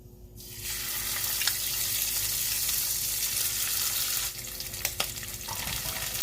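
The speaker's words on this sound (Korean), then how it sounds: "마늘 볶아주고요" Garlic frying in homemade basil-infused olive oil: a steady, close sizzle that runs almost the whole time, easing briefly near the end, with a few faint clicks of utensils.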